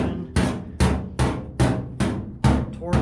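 A shrinking hammer strikes a warped steel body panel on a 1970 Plymouth Duster tubbed drag car, giving seven sharp, evenly spaced metallic blows that ring briefly, close and loud.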